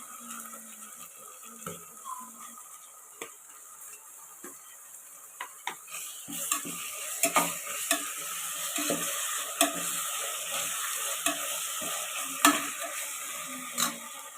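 Tomatoes and mint fry in a pot for mutton biryani, with a low, steady sizzle under repeated scraping and stirring taps of a spoon that grow busier toward the end.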